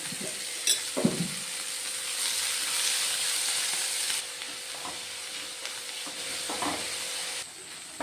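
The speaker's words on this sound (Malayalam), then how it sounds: "സവോള ഇവിടെ നന്നായിട്ട് വഴന്ന് വന്നു" Onions sautéing with salt in a pan, a soft continuous sizzle with a few clinks and scrapes of a spoon against the pan, close and quiet, with no talking.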